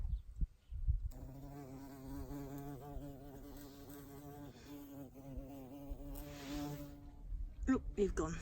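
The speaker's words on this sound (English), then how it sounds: "And oh, there's a bee." A bee buzzes steadily and close among spring garden flowers such as daffodils and heather, a continuous droning hum lasting several seconds before fading as it flies off, with a voice briefly before and after.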